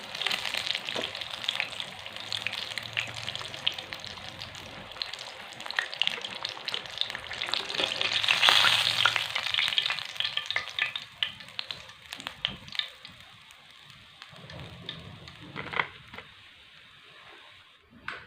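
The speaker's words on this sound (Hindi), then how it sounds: "मछली हमारी फ्राई हो चुकी है।" Crispy spiced fish frying in hot oil gives a steady, close sizzle for the whole stretch, swelling briefly louder midway with some bubbling and stirring noises, and no talking.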